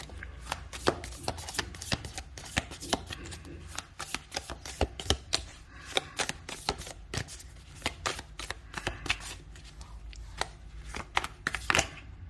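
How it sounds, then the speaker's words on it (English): Rapid, steady riffling and clicking of a card deck being shuffled up close, continuing almost without pause. "Let me just shuffle again."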